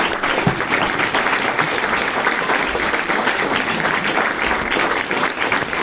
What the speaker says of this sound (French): On peut l'applaudir, c'est pas tous les jours que Noah Baumbach vient au Christine Cinema Club